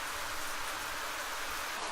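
Rain falling in the video game Farmer in the Fallout, heard as a steady, even hiss of dense droplets that stays at the same soft level throughout, with no voices.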